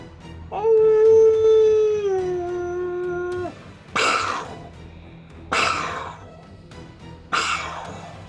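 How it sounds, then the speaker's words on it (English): A long, sustained canine howl sweeps and slowly falls over about three seconds, then three sharp, bursting cracks follow at regular intervals, each decaying like echoing gunfire. "there seems to be a combination of howls in the distance and the echoing of gunfire going off"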